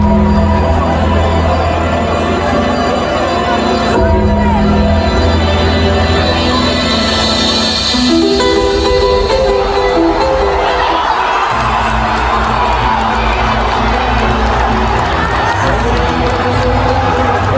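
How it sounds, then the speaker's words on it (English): Large arena crowd at a boxing event roars and cheers as a mystery opponent is revealed, a sustained loud wall of shouting and whooping that swells and surges throughout. "just listen to the crowd reaction from where I was sat"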